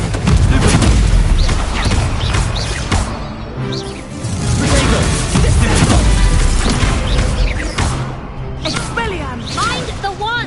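Blasting Confringo spell explosions in the Hogwarts Legacy video game, loud booming crashes and whooshes in a dense, continuous battle din with shouted voices.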